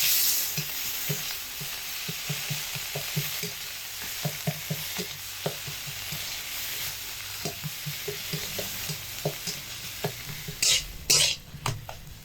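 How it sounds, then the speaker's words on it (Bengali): Ground spices (coriander, red chilli and pepper powder) are stir-fried in a pan, producing a continuous sizzle with regular scraping and tapping of the spatula, a cough in the background, and sharper clatters toward the end. "চার থেকে 5 মিনিট সময় ধরে মশলাগুলোকে কষানো হয়ে গেছে।"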